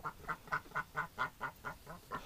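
A domestic duck quacks in a steady series of about ten evenly spaced calls, close and moderately loud, with no talking over it.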